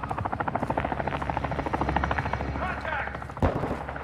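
A chopper gunner helicopter in a Call of Duty match with rapid rhythmic rotor thumping and bursts of gunfire. Radio voice callouts play over it, and there is a sharp blast near the end.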